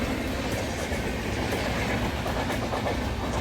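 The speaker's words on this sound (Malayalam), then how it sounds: "തിരുവനന്തപുരം വരെ പോകുന്ന ട്രെയിനാണ്." A train bound for Thiruvananthapuram running at Sasthamkotta railway station, a steady loud rumble with rhythmic clickety-clack of wheels over rail joints, close by and continuous.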